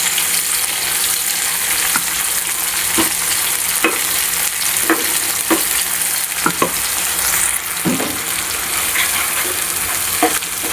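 Spinach masala made from spinach, onion, tomato, ginger and garlic paste with kasuri methi fries in oil, giving a steady close hiss with scattered stirring clicks throughout.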